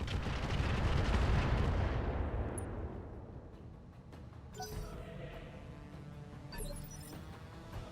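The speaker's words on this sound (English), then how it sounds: "I'm running out of close targets, so I'm gonna have to fire on that VTOL" A mech in the Roguetech game firing weapons at a VTOL: a loud, dense roar of weapon fire that gradually fades, followed by scattered crackling impacts and a few sharp bursts.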